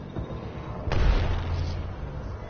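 Grenade blast in the Apex Legends battle royale game: one muffled boom rolls out with a low rumble that lingers for over a second, set against steady faint game ambience.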